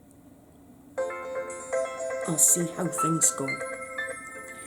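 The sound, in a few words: mobile phone ringtone ringing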